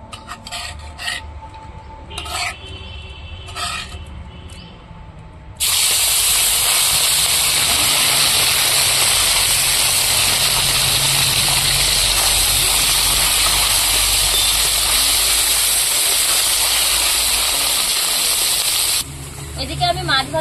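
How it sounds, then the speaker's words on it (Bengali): Small fish rubbed with turmeric and salt hit hot oil in a kadai. After some quiet clatter and possible talk, a loud, continuous hissing sizzle bursts in and holds for about fourteen seconds before dropping away. "তেল গরম হয়ে গেছে, মাছগুলো ভেজে নেব।"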